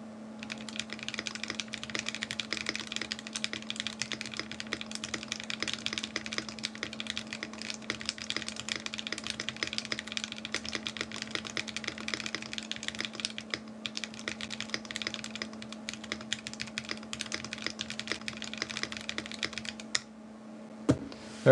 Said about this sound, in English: I'll finish this off with one last typing test